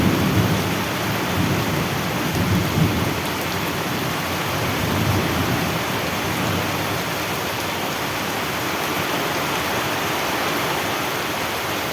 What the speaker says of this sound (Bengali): দারুণ বৃষ্টি।